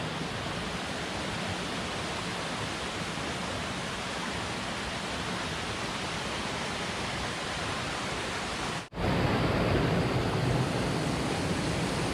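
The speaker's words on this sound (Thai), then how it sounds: "น้ำตก" A waterfall in Khao Chamao–Khao Wong National Park pours with a loud, steady, broadband rush close by, interrupted once by a brief cut before the roar resumes slightly louder.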